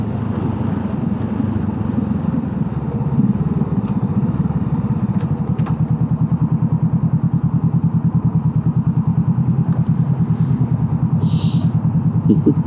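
A Honda CB500F motorcycle engine drones steadily on a foggy, wet-pavement commute, a loud close low rumble with a pulsing throb that grows more even toward the end, plus faint wind noise.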